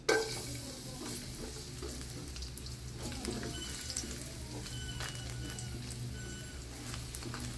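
Garlic fries in a little hot oil in a pan, a close, steady crackling sizzle with light stirring scrapes, beginning with a brief sharp burst as it hits the oil.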